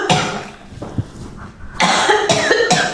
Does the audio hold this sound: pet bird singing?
no